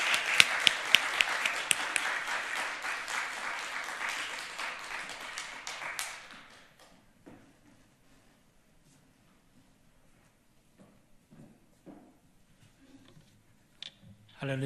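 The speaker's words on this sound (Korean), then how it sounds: "우리 사랑과 감사를 담아서 박수로 한번 맞이하도록 하겠습니다." A church congregation claps to welcome a guest pastor at a deacons' dedication service, loud dense applause that fades out after about six seconds, leaving near silence with a few scattered taps.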